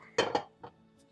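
A metal pot clatters and clinks as it is handled, a couple of quick knocks followed by a softer bump, close by in a quiet room.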